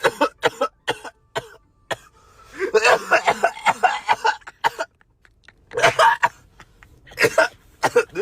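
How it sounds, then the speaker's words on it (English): Repeated harsh coughing fits right after smoking strong cannabis, loud and close, coming in bursts with short gaps and one longer sputtering stretch in the middle. "I heard that cough loud as fuck."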